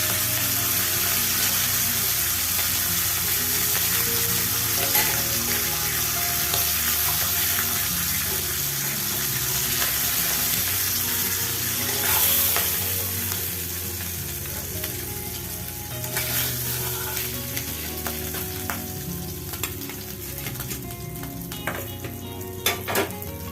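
Hilsa fish frying lightly in hot oil in a pan, a loud, dense sizzle and spatter running continuously, with occasional clinks of a pan and utensil and a slight easing of intensity toward the end.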